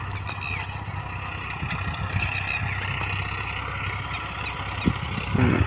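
A Farmtrac 65 EPI tractor runs steadily in a paddy field, its low engine drone constant and fairly close, with a few brief knocks near the end.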